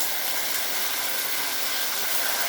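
Capsicum hits a hot pan with a loud, steady, close-up sizzle, a dense broad hiss that stays even throughout.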